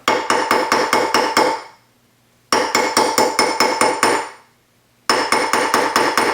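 Nylon hammer striking a sterling silver bangle on a round bracelet mandrel, three loud bursts of rapid, evenly spaced blows, each run of about seven strikes separated by brief pauses.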